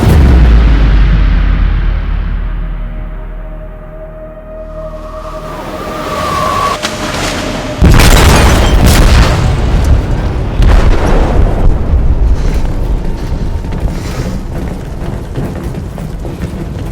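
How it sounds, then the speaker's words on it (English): Detroit: Become Human explosion in a ship's hold: a low rumbling buildup gives way to a sudden loud, deep boom, followed by sustained roaring and crashing debris, with no voices. "They detonated an explosive in the hold."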